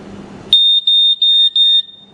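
A photoelectric standalone smoke detector, model LS-828-14AD, sounds during a test: a sharp, piercing high beep in five quick pulses close to the listener, after a short stretch of quiet room noise.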